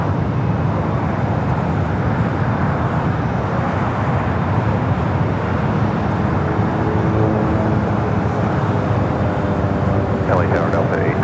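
A jet airliner rotates off runway 24 left on the north side at LAX, a broad continuous roar with rising whining tones toward the end, heard under talk.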